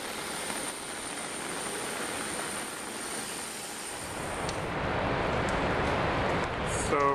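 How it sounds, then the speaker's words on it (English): Heavy rain pours steadily at Foz do Iguaçu airport as passengers leave a plane, a dense broadband hiss that swells louder in the second half, with faint aircraft or engine noise mixed in. "It's raining heavily."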